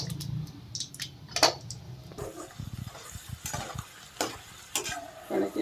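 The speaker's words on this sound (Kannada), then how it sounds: "ಈಗ ಕಡಲೆಕಾಯಿ ಹಾಕಿ ಫ್ರೈ ಮಾಡಿ ತೆಗೆದಿಟ್ಕೊಳ್ಳೋಣ" Peanuts frying in two or three ladles of hot oil for avalakki, with a steady sizzle and bursts of stirring scrapes and clinks close by, no voices.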